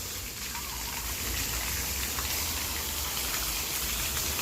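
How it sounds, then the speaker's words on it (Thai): A constantly running water fountain at a garden cafe near the Pasak Chonlasit Dam sends out a continuous gushing, splashing wash of water, fairly close and steady throughout, with no speech. "ทำน้ำไหลน้ำพุไว้ตลอดค่ะทำให้รู้สึกไม่ร้อนนะคะ"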